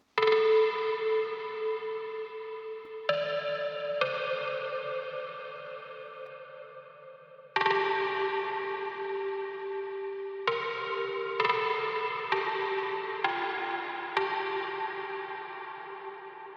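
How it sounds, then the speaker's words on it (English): A trance drop melody on a bright, buzzy synth with effects, sustained notes changing pitch in a slow sequence, each held and fading under echo and reverb, played alone with no voices. "For the second half of the drop, I'm also adding some more melodic elements, and I have this drop melody that is starting"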